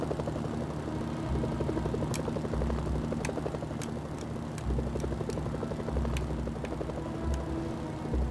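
A helicopter in the video game Mercenaries: Playground of Destruction thrums steadily with a dense rotor and engine drone, loud and close throughout, with several sharp short clicks or ticks cutting in over it.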